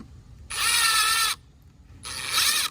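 A power driver sinks a screw into a plastic anchor in a brick wall, two loud whirring bursts close by, each about a second long, separated by a short quiet pause.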